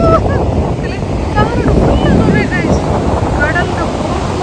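A boat out on the sea, heard through heavy wind buffeting the microphone. Constant loud roaring noise runs throughout, with faint high chirping voices or calls breaking through now and then.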